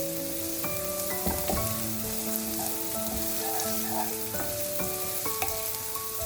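Carrots and beans stir-fry in a hot pan with burnt garlic for noodles, giving a steady, close sizzle broken by clinks and scrapes of stirring.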